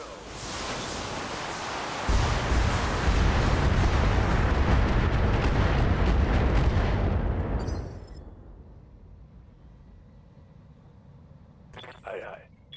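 A heavy naval barrage in a space-fleet battle game roars loud and continuous for about eight seconds, a dense rumbling wash of fire, then falls away to a low hum with a brief burst near the end.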